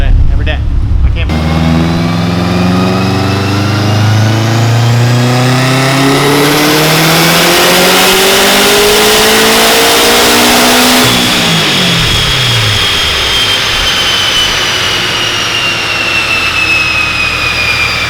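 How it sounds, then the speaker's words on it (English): A bolt-on modified 2019 Subaru STI engine runs hard on a dyno, a loud rising rev sweep climbing steadily for about ten seconds before the throttle drops and the engine winds down. "Got the STi back on the dyno"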